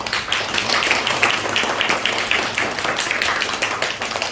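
Church congregation clapping together to welcome two first-time visitors at a Sunday service, a dense, steady round of applause that stays even and close from start to finish.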